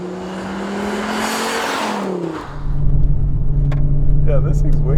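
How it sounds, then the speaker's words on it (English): A Volvo V70R's five-cylinder engine drives hard on a winding Oregon road. A close, steady drone rises and falls in pitch, then settles into a deeper, louder rumble, with voices talking over it. "That's 5-cylinder, man. It does sound good."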